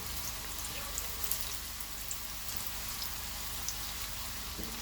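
Sliced onions sizzle steadily in a pan for keema, a dense, even frying hiss with small pops throughout and no talking.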